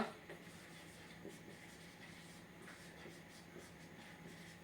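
Pen writing on paper while a maths problem is worked, faint scratchy strokes in short bursts against a quiet room hiss.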